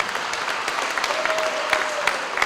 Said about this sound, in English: Let's give Mark a big round of applause.